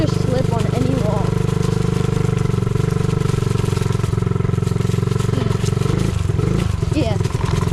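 A mini bike engine running on a trail, a loud constant close buzzing drone with slight shifts in pitch, a voice talking over it now and then.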